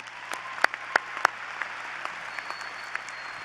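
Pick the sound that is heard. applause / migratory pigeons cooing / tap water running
applause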